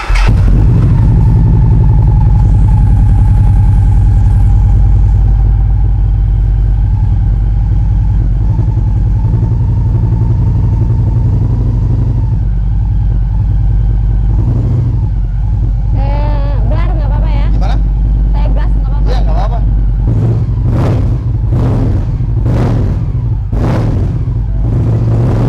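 Victory motorcycle engine running close by, a steady low idle rumble that rises into several sharp, rapid revs toward the end, with people talking over it.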